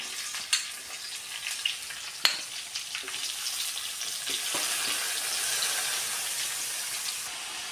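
Ginger, onion and tomato for sambar sizzle and fry in a pan, with a steady hiss and a few sharp clatters and stirring knocks early on, fairly close and moderately quiet, no one speaking.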